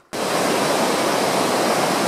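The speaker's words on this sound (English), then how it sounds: "this is Whitewater River. You might can understand why it's called Whitewater River." Whitewater River rushing along a foothills hiking trail, a loud, dense, unbroken roar of churning water that starts abruptly and holds steady, with no voices.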